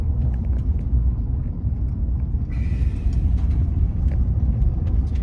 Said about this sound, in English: It's a nice sunny drive down a gravel road.